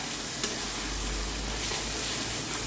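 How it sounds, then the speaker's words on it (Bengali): Kashmiri chilli powder, ground pepper and whole green chillies frying in a pan are stirred steadily, with continuous close sizzling and scraping throughout. "ভালো করে নেড়ে নিচ্ছি।"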